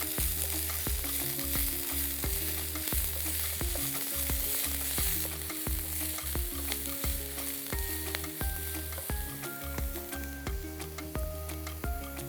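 Chopped capsicum sizzles and fries loudly in sauce in a hot pan over a high flame, a constant crackling hiss with occasional stirring clinks, close up and without talk.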